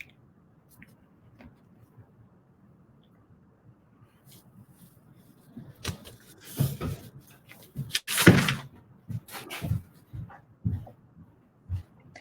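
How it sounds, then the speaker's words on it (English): A dog howls and whimpers indoors in the background, the sound swelling from about six seconds into several loud, drawn-out bursts after a quiet start. "My dog is howling in the background"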